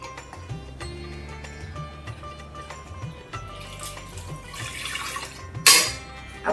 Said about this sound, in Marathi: एक कप हरभऱ्याची डाळ त्याच्यामध्ये दोन कप आपण पाणी घालूया